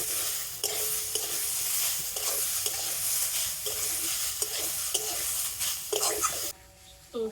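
Vegetables with chopped green chillies get stirred in a sizzling pan: a steady close hiss with repeated scraping strokes, which drops off near the end before a final clatter.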